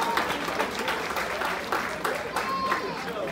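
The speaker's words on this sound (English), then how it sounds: "Let's have a nice round of applause for both boxers," An audience applauds both boxers at a boxing event in the Dan Cannon Auditorium at the Pasco County Fairgrounds in Dade City, Florida. The clapping is steady and moderately loud, with a voice speaking over it.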